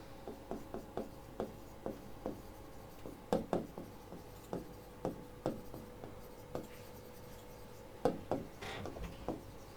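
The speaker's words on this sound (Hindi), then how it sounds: "ये कोट मैं इनका लिख रही हूँ" A teacher writes a quote on a board, close and quiet, with short, regularly spaced taps and strokes of chalk or marker coming in quick bursts, no talk.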